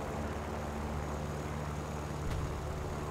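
A propeller fighter's engine, a Yak-9 in the War Thunder game, drones steadily and evenly at a moderate level with a low, constant hum and no other sounds.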